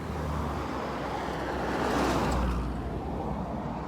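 Road traffic roar as a group of cars passes on a country road, a steady near rumble swelling toward the middle and then easing off.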